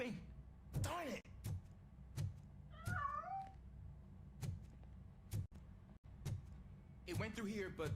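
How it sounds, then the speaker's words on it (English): A cat in the video game RoboCop: Rogue City meows several times, with loud, clear cries at the start, middle and end, separated by heavy rhythmic thuds and quiet stretches. "That cat must be hiding inside."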